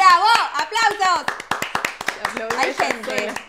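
A small group of people claps to welcome a guest onto a Spanish-language podcast set, with sharp, distinct hand claps. An excited voice talks loudly over and between them.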